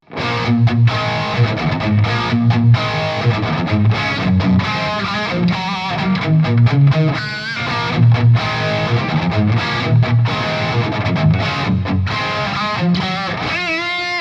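Riffs played on electric guitar through a signature amp head, heavily distorted and loud, with chugging palm-muted rhythms, quick fills and sustained chords running continuously.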